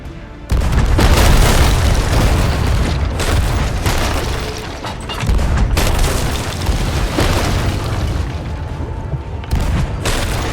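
Heavy ship cannons boom in Sea of Thieves, a loud, dense barrage of blasts and rumbling impacts rolling on for about ten seconds with no talk.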